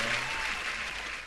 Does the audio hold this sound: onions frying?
no